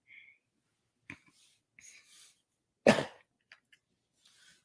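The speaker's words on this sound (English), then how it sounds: "I had to cough." One sharp, loud cough stands out near the middle, surrounded by a few small throat sounds, breaths and clicks in an otherwise quiet room.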